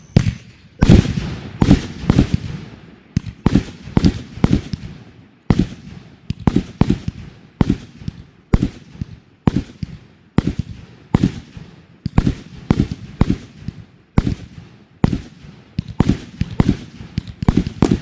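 A backyard fireworks howitzer barrage fires a long, rapid sequence of loud booming bursts, each sharp crack followed by a short rumbling tail, repeating at a quick, uneven pace throughout.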